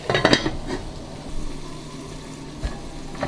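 A pot lid clatters shut over a pot of Uzbek plov, a lamb and rice pilaf, with a quick metallic rattle and a duller knock a moment later, all over a faint steady sizzle.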